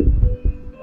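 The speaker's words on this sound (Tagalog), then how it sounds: "Okay, yan yung tunog ng aura share." A JBL Go 4 portable speaker sounds its Aura Share connection tone, a short deep bassy double thump lasting under a second, loud and close with no talking.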